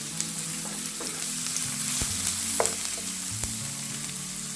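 Finely chopped onions, two medium ones, sizzling steadily in hot oil in a pan for chicken jalfrezi, a close, continuous frying crackle with occasional stirring clinks and no talk.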